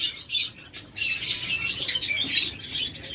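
Caged opaline budgerigars, a black pair, chirp and tweet in quick overlapping bursts, a busy, close, high twittering chorus with brief pauses between calls and no talking.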